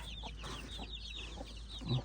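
Chickens cluck and squawk in agitated bursts as they are caught by hand and bagged in a sack for release at a rice field; rapid, fairly close calls run continuously over a steady low outdoor hum.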